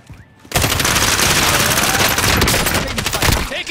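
Gunfire erupts in Call of Duty: Modern Warfare, a dense, loud burst of rapid automatic shots that starts abruptly after a brief quiet and rattles on continuously to the end.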